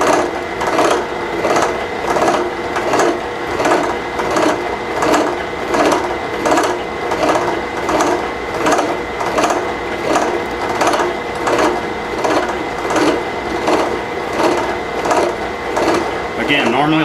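Gear cutter on a milling setup cutting a 16 diametrical pitch gear with a 14.5 degree pressure angle, running dry, a loud repetitive mechanical chatter pulsing about once per second throughout.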